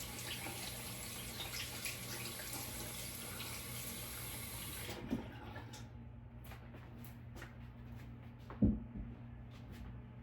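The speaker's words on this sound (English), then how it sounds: "So just wash your hands with soap and water." Water runs steadily from a tap for about five seconds while hands are washed with soap, then stops, leaving quieter room sounds with a couple of soft knocks.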